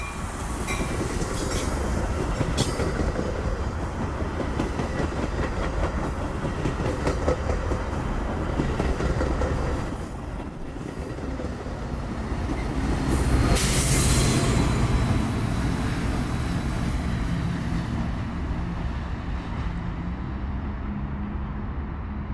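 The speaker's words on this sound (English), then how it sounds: "Following behind the Christmas train would be another inbound on the Metra UP Northwest line." A Metra commuter train on the UP Northwest line in Chicago rumbles past steadily, with a broad roar of wheels on rails, brief metallic squeals and rattling, swelling louder near the middle.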